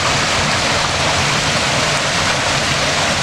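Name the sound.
water pouring from guttering into a stone pool, natural shower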